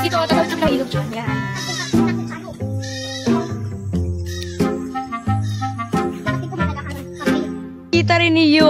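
Goats bleating repeatedly and loudly nearby, their wavering cries overlapping with bells tinkling and people talking.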